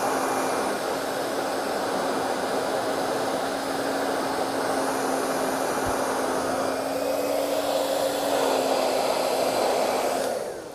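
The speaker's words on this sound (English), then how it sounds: "use the hairdryer and put it inside of the ear" Hair dryer blowing into a taxidermy ear, a steady close whirring hum held for about ten seconds, with no talking.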